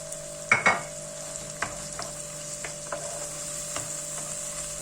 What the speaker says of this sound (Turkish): Salça da kavrulduktan sonra kabukları soyulmuş 3 adet domatesi ilave ediyorum